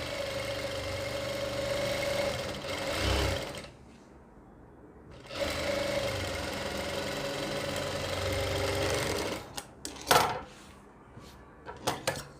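Sewing machine stitching a kurti, its steady motor whir running in long bursts with short pauses and a few clicks of fabric handling.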